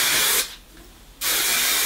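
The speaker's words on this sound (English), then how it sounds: "And then I use the Colour Wow Extra Mystical Shine Spray." Colour Wow Extra Mystical Shine Spray misted onto hair in two loud, close aerosol bursts of steady hiss, separated by a short pause.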